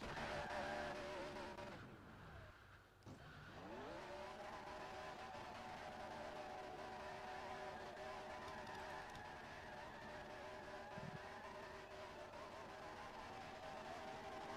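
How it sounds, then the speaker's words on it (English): A race car doing a post-win burnout at an oval track, engine roaring loud and steady with rising and falling revs, a brief dip then sustained high-pitched engine drone throughout. "As he finishes up his burnout here"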